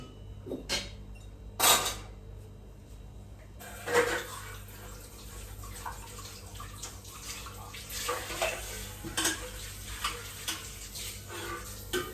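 Water poured into a pot of cooked rice to reboil it, a faint splash and steady trickle of running water with light clinks of the pot, quiet and close, no talk.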